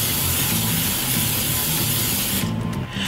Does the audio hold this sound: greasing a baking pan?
yes